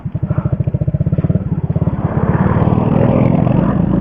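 A motorcycle engine idles with a fast, even putter, then revs up into a steady, louder drone, close by and alone without talk.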